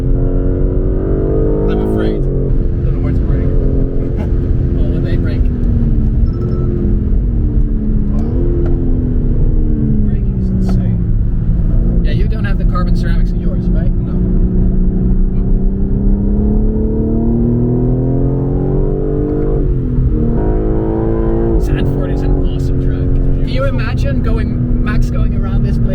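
A new BMW M3 Competition driven flat out and sideways on a track, its engine droning loudly and steadily from inside the cabin, pitch rising and falling through gear changes, with voices talking over it.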